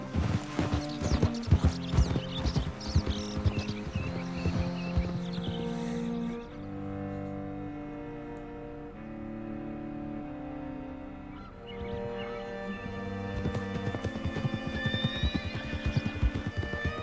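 Clip-clopping hooves and a whinny from a horse in Red Dead Redemption 2, with steady hoofbeats over a musical score, a calmer stretch, then more hoof clatter; the sounds stay moderately near, with no talk.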